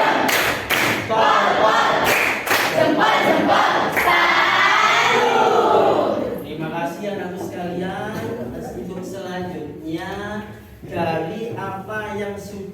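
A class at a vocational high school does a rhythmic clapping chant. Sharp group claps land in time with loud unison voices, then the chanting carries on with fewer claps.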